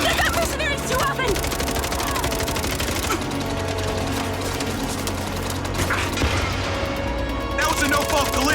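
Bursts of rapid machine gun fire from mercenaries in the game MindsEye rattle repeatedly across the scene. There are short pauses between the volleys, and voices talk over the shooting.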